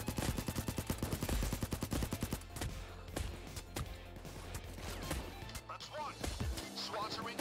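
Gunfire from the video game Payday 2 VR erupts in rapid automatic bursts and scattered single shots, loud at first, then continuing more sparsely with faint voices mixed in.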